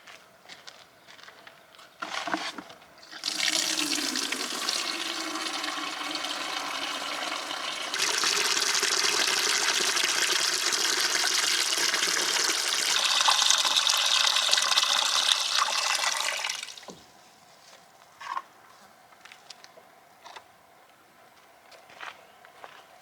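Water gushes from a tap into an IBC tank on an off-grid farm. The flow is loud and steady for about thirteen seconds, then cuts off, with scattered footsteps and knocks before and after.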